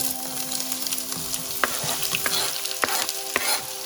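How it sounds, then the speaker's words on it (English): Three sliced medium onions sizzle and fry steadily in a pan on the stove, with a spoon scraping and stirring through them in several distinct strokes over the constant hiss. "Gonna lower the heat a little bit and let it saute."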